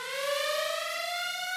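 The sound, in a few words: alarm sound effect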